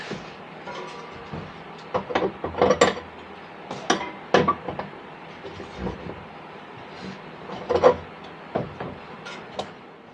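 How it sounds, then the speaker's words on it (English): An aluminum bracket is bent with pliers, giving a series of sharp, close metallic clicks and clanks in irregular bursts with quieter handling noise between. "You just grab it with pliers and bend it how you want it."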